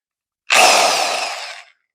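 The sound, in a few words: drill spinning flexible silicon carbide hone in shotgun barrel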